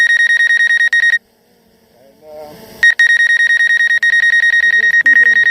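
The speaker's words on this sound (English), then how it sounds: "it is beeping because I'm standing close to it." A DJI Mavic Air 2 drone sits on muddy ground in gusty wind, sounding a rapid, loud, repeating beep as a proximity warning. The beeping cuts out for a moment while a voice speaks briefly, then resumes.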